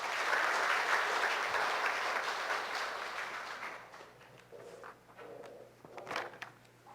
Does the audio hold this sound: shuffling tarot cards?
no